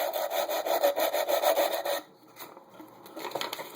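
A wooden stick for a cigar box guitar gets its groove sanded with taped-down sandpaper: steady rhythmic rasping strokes, close and fairly loud, then softer, irregular rubbing.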